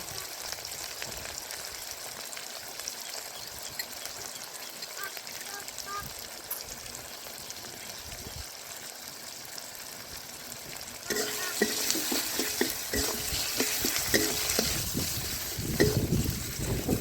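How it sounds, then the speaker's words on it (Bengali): Chopped tomato with turmeric, chili powder and salt fries and gets stirred in a pan for a Bengali soybean curry; a quiet crackle swells into a louder, busier sizzle with stirring scrapes partway through. "মশলা থেকে তেল ছাড়া পর্যন্ত এটাকে ভালোভাবে কষিয়ে নিতে হবে"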